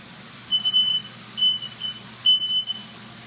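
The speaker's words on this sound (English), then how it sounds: "My smoke detector is super dramatic, so don't mind that." A shrill electronic smoke detector beeps three times in short, evenly spaced chirps against a quiet indoor room.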